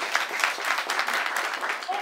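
Crowd clapping for the cameraman at a Haitian Kanzo and baptism ceremony, a steady wash of applause with scattered sharper claps, and voices talking beneath it.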